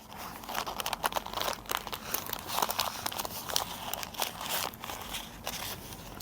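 Oil paper packing being peeled and unwrapped from around an injector valve assembly, continuous close crinkling and crackling with uneven rustling bursts throughout.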